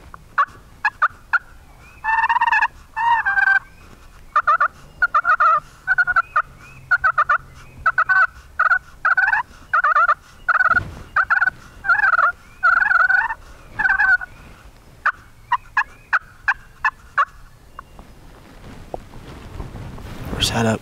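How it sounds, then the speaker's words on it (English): Wild eastern turkeys gobble repeatedly outdoors, with loud rattling calls arriving in quick overlapping bursts through most of the stretch, then thinning out toward the end, with wind buffeting the microphone. "We've had turkeys gobbling their heads off."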